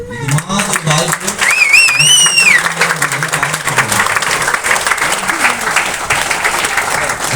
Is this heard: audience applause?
yes